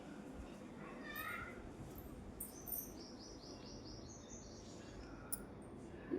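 Small bird chirping close to its nest of eggs among potted plants, a few light tweets rising faintly over a voice and room noise.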